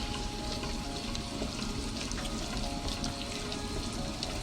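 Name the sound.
stirring chickpea flour (besan) into melted butter in a pan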